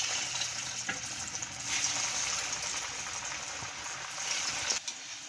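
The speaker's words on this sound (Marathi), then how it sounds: "आता आपण हे तळून घेऊयात।" Cheese balls deep frying in hot oil give off a steady, close, busy sizzle with crackling bursts throughout, with no voices.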